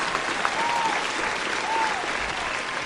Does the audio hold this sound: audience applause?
yes